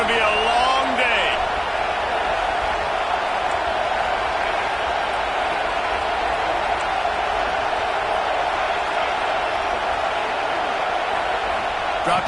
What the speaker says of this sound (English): This crowd, full throat, splitting the eardrums and letting them know it's going to be a long day.